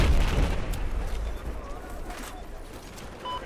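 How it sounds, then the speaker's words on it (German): Distant booms and scattered gunfire from Battlefield 4 rumble low and steady, with a few sharper cracks mixed into the dense background noise. "Kann sein, dass hier recht viel explodiert."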